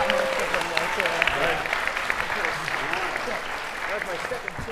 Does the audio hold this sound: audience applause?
yes